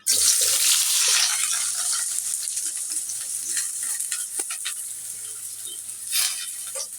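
Onions frying in hot oil in a pan, a loud, steady sizzle and hiss that starts abruptly and continues throughout, with occasional stirring scrapes and small pops.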